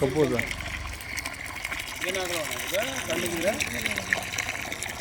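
Water gushes steadily into a tub set up for a rescued cobra, a continuous splashing rush running the whole time while a person talks over it.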